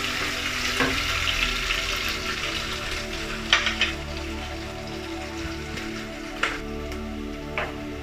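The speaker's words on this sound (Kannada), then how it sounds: "ಈರುಳ್ಳಿ ಸ್ವಲ್ಪ ಬ್ರೌನ್ ಆಗಿದೆ." Onions frying in a pan until slightly brown give a continuous close sizzle, broken by a few sharp spoon clicks and stirring scrapes.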